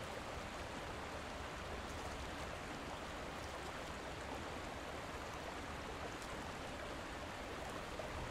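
Faint, steady rushing water from a waterfall in the survival game Conan Exiles, an even, distant hiss with no breaks and no voices.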